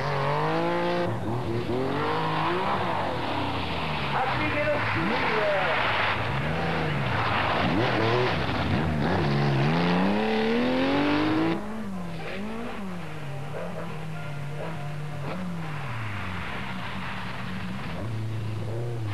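Porsche rally car driven hard on a 1983 Belgian rally stage, engine revving up and down loudly through gear changes, close and continuous, with a commentator speaking over it.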